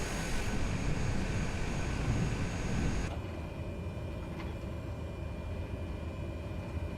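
A Cessna 208 turboprop's engine drones inside a Microsoft Flight Simulator cockpit, with a steady broadband roar that drops to a quieter, even hum partway through.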